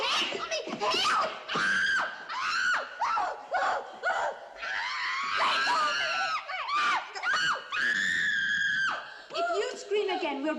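A girl screams repeatedly in a 1960s film scene, with shrill, frantic cries breaking up and mixed with other voices and laughter close by.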